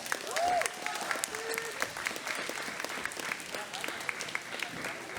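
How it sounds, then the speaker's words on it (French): Audience applause from a crowd at a French anime and pop-culture convention stage in Rouen, with steady clapping and some cheers through the whole stretch, loud and close, without speech over it. "Applaudissements pour Ganesh 2, s'il vous plaît!"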